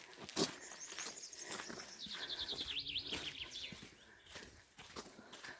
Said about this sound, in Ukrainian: О, глянь, як пташки співають.